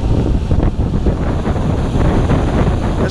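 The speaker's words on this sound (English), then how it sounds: "There's quite a bit of wind right now." Strong wind buffets a microphone outdoors during a drone flight, a loud, steady low rumble that fills the whole stretch with no other sounds standing out.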